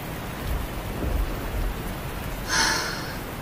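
Steady heavy rain falls throughout a storm, with a sharp crack of thunder breaking in near the end over the constant downpour.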